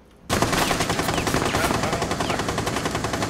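Dense automatic gunfire from a Rainbow Six Siege match on the Park map in Team Deathmatch, bursting in loud and close after a brief quiet start, then sustaining rapid rattling shots with a few layered weapons and no speech over it.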